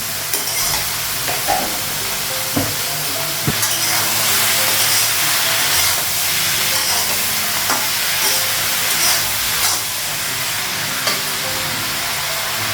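Salt and ginger paste fry in a pan, probably for a vegetarian dish of pointed gourd and eggplant. A loud, continuous sizzle carries scattered crackles and light clicks throughout.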